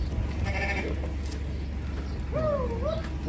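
Hissar breed rams and sheep in a flock bleat outdoors, with a soft bleat early and a louder wavering bleat near the end over steady background noise.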